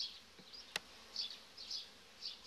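Faint buzzing of honey bees on a hive frame being lifted comes and goes in short bursts, with a single sharp tap partway through, quiet and close.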